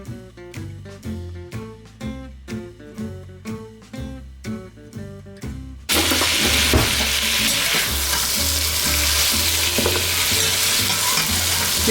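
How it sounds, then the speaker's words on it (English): Peppers stir-frying in a hot pan for a pepper steak stir fry: rhythmic stirring strikes at first, then a dense, continuous loud sizzle, close up and without any talk. "And we're gonna get our peppers in there. We are only cooking these until they are tender."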